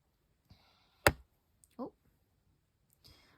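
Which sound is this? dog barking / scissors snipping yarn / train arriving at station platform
scissors snipping yarn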